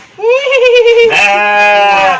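A sheep in a pen gives one loud, close, drawn-out bleat with a wavering, voice-like tone, heard on its own at high volume.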